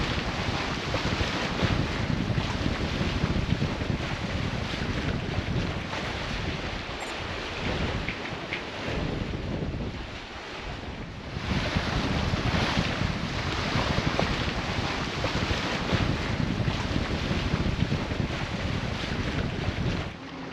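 A sailboat under way on a 45-nautical-mile coastal passage along Costa Rica toward Carrillo, with steady wind buffeting the microphone and rushing water along the hull, loud and continuous throughout.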